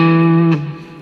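A single sustained chord rings out on a Telecaster electric guitar through a Vox AC15/AC30-style amp simulation in Guitar Rig with studio reverb, sounding bright and clear before being cut off with a short scrape and a fading reverb tail.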